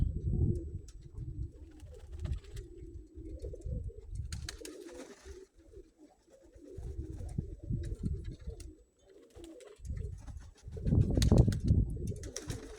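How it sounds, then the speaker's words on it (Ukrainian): Low, throaty pigeon coos repeat steadily, close by, with a few soft wing flutters and rustles mixed in. "Да, вони мене радують ці голуби."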